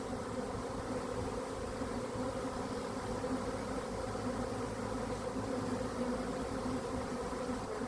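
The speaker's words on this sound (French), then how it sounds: "il y a beaucoup d'abeilles qui volent dans tous les sens là" A honey bee swarm flies in all directions around a hive during swarming, a dense, steady buzzing drone close by with no pauses and no voices.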